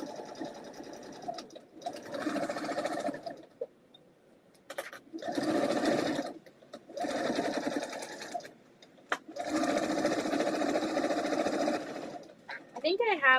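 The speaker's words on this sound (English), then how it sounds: "So now we're going to sew this line, and then we'll have our completed block." A sewing machine stitches a seam on a fabric quilt block in four long runs of rapid, even whirring, separated by quiet pauses, close and clear, with a short burst of tones at the end.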